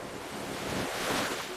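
A cartoon ocean wave washes up a beach over a sandcastle, a steady rushing surf hiss with breezy wind noise that swells briefly, heard alone without talk.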